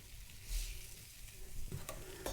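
Tortilla made without baking powder cooking on a hot pan, a soft sizzle with faint scraping and light handling noises, quiet and close, no talking.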